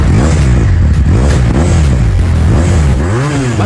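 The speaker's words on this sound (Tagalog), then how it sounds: "Kung tatanungin mo naman kung ano ang sounds ng motor na ito nga ang sounds ng Finja" A Finja 500cc sport motorcycle engine revving loudly up close, with repeated rising and falling throttle blips over a steady rumbling idle.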